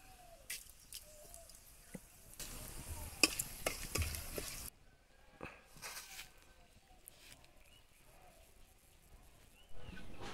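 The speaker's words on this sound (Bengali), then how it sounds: "এইবারে দিয়ে দিচ্ছি কড়াতে শুকনো লঙ্কা, জিরে, তেজপাতা, গোটা গরম মশলা আর দিয়ে দেব চিনি।" Dry red chillies, cumin, bay leaf and whole garam masala sizzle in hot oil in a kadai, with stirring scrapes and clatter. A louder burst of frying comes partway through, then it settles to a soft, intermittent crackle.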